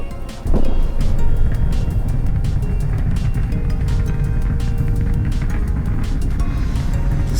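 A spaceship engine burn in the video game Flight Of Nova ignites after half a second into a loud, steady, broadband roar that holds without a break.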